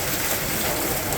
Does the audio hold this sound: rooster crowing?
no